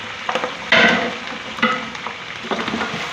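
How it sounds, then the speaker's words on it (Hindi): Mutton pieces are dropped into a hot pan of browned onions and green chillies, raising a loud crackling sizzle close by. The crackle flares again as more meat lands and keeps hissing between light clatters. "अब हम इसके अंदर मटन डाल देते हैं।"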